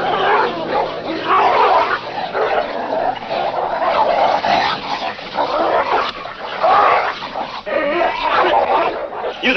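A dog barks, yips and whimpers loudly and continuously in a 1955 Western film scene, close and agitated, with brief voices mixed in.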